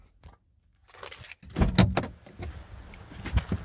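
A car door opening as someone steps out, with a click and jangle of keys followed by a solid thud and rustling movement, close by and fairly quiet, with no talking.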